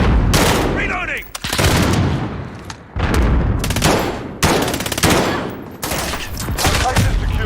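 Dense bursts of rapid automatic gunfire sound in a video game, loud and close, broken by brief pauses and repeated volleys with fast crackling shots.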